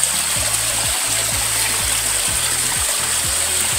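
Mountain water rushes steadily over big rocks at a village water source, a continuous close hiss of flowing stream, with faint repeating low thumps underneath.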